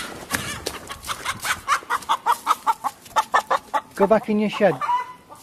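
Several chickens cluck in rapid, rhythmic bursts close by, with a voice speaking over them and a rising squawk near the end, in a yard near houses after a fox attack.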